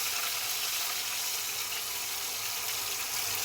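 Onions sizzling in hot oil for a village-style pork curry, a loud constant hissing fry with no breaks and no voices.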